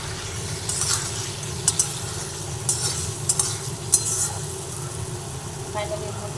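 Cut green chilies frying in a pan and stirred, a steady loud sizzle with intermittent scraping and clinks of the spoon against the pan.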